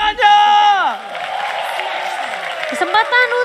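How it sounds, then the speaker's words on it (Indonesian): An esports arena crowd at an IPL match between RRQ and Geek Slate answers the caster with a swell of cheering and clapping under loud, excited commentary voices. "IPL Arena, mana tepuk tangannya?"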